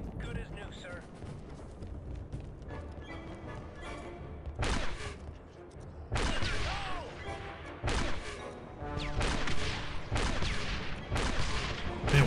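A Wookiee crossbow firing in the Star Wars: Republic Commando video game, about five sharp, loud bursts spaced a second or so apart, each with a crackling tail, over background battle noise and occasional voices.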